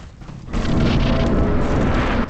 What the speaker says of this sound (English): That sound means that I entered the boss arena.